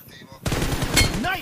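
Rapid automatic gunfire bursts out loud and close in a shooter video game, following a brief quiet lead-in, with a rattling, sustained volley.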